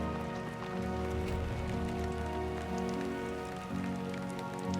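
Timefall rain in Death Stranding 2 falls steadily and close, a dense patter on surfaces over a low, sustained droning backdrop that never lets up.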